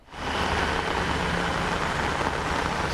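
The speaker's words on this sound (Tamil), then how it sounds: "தற்போது கனமழையானது தொடர்ந்து இந்த பகுதி முழுவதுமாக பெய்து கொண்டிருக்கிறது" Heavy rain pours onto a road in the Chennai area as a dense, steady hiss. It swells in within the first moment, then holds loud and even throughout, with no voices.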